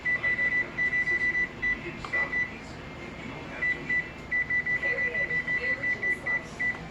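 Kitchen timer beeping beside an oven during artisan bread baking, a rapid string of short, even electronic beeps in two runs separated by a pause, over faint background room noise.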